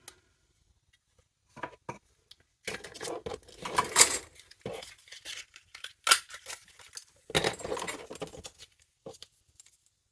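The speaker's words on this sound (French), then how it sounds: "Que je découpe moi avec cette perfo." A paper punch cuts number shapes out of scrapbooking paper, giving quiet, sharp clicks and crunches in short bursts with pauses between them.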